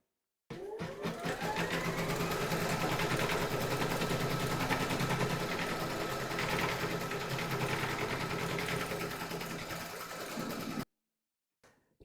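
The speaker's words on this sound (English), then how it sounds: "Pop your hoop into your machine and stitch round number 2 to secure it." An embroidery machine stitches a round of a Halloween kitty design in fabric held in a hoop, a rapid, steady mechanical chatter running unbroken for about ten seconds before stopping abruptly.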